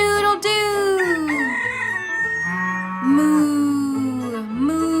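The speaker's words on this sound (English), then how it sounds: "Cock-a-doodle-doo!" Bantam rooster crow sung as a long, loud, melodic cock-a-doodle-doo with strong harmonics over steady background music, filling the whole stretch in close, bright, repeated swoops.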